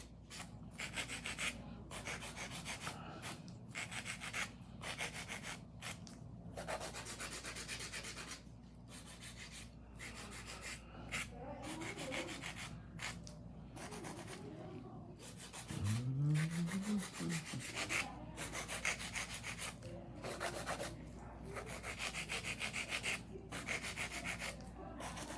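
An acrylic nail filed with a 100-grit file during a fill, a steady run of quick back-and-forth rasping strokes close up, with a brief low hum partway through.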